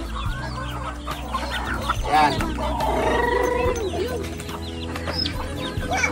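Chickens cluck and chatter close by while being fed, with overlapping calls and a crowing rooster in the mix, heard under a man's speech.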